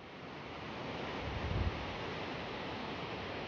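Cliff Falls at Kanaka Creek in Maple Ridge, Canada, cascades over solid rocks, a loud, steady broadband roar of rushing water with no voices.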